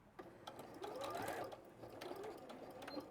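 A domestic sewing machine runs in steady bursts, back stitching to close the end of a fabric seam on a picnic blanket project, its motor whirring close and fairly quiet with brief pauses between passes.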